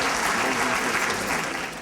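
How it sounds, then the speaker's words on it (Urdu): Hearty applause from a festival crowd at the 2014 Faiz Mela in Pakistan, a brief, loud, continuous burst of many hands clapping with no talking over it. "تو بھرپور تالیاں"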